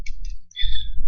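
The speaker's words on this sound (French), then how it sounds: "on peut cliquer sur le clavier" Mouse clicks on an on-screen keyboard on a computer, a few short, close clicks heard alone.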